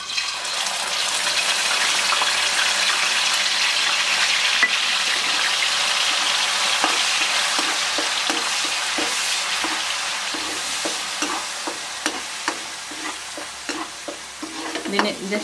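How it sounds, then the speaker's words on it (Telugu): Onion paste hits hot oil in a pan among curry leaves for a chicken dish, a loud, dense sizzle that gushes steadily, then settles into a busier crackle with spatula scrapes. "ఈ ఉల్లిపాయ ముద్ద వేస్తున్నానండి నేను."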